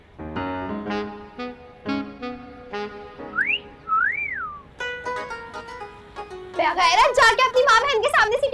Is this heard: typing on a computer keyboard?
no